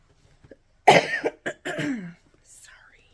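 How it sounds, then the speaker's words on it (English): A person coughs a few times in quick, close bursts, a harsh throaty hack followed by shorter coughs, then quiet with a faint breathy sound. "I feel like I'm never going to be done coughing, ever."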